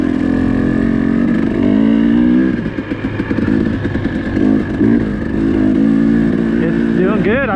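A dirt bike ridden across open desert at Hemmingway Butte in third gear, its engine droning loud and close with shifting revs and mechanical clatter, while voices speak over it.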